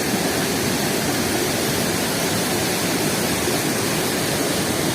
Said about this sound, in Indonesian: ini sudah sampai air terjun Little Niagara